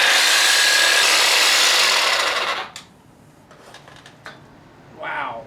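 A reciprocating saw grinds loudly and harshly into a stainless steel exhaust weld for about two and a half seconds, then stops. A few light clinks and rustles follow, then a short scrape.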